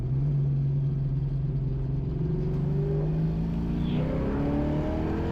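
A 1988 Mustang GT at high speed, around 140 mph: a steady, loud, droning engine with a low rumble and rising pitch, along with road and wind noise, continuous throughout with no talking.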